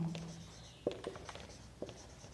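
Pen writing out a linear programming solution on paper, a few short scratchy strokes and taps spaced across a quiet room, fairly close and soft.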